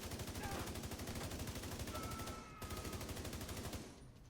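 Enemy gunfire in The Division 2 video game, a steady rapid automatic stream of shots that is loud and continuous, with a brief dip partway through, and no talk.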